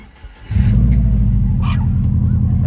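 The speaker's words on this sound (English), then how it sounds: "Now, turn to the on position, let the fuel pump prime, and we start the car." A tuned car engine cranks briefly and catches about half a second in, then settles into a loud, steady idle at close range, with brief background voices.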